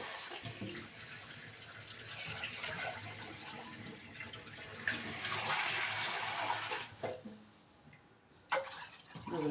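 Water runs from a tap into a soup pot in a home kitchen, a steady rushing stream that swells midway, cuts off, then comes in brief bursts near the end.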